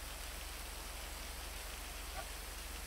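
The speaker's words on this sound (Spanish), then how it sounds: "Ese está lloviendo fuerte, hermano." Steady, dense hiss of heavy rain falling in a roleplay video game, continuous and fairly faint with a low mechanical hum beneath it.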